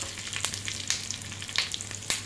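Mustard seeds, urad dal, chana dal and curry leaves tempering in hot oil give a close, continuous sizzle dotted with sharp pops and crackles, with no voices.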